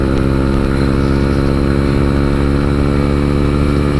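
A Chinese 125cc motorbike engine drones steadily and loudly while the bike is being ridden, its buzzing, harmonic-rich tone held almost constant throughout with no pauses.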